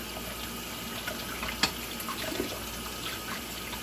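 Tap water runs steadily into a sink while dishes are washed, a soft constant hiss with a brief clink of a dish partway through, no talking.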